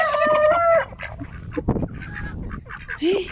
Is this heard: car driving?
no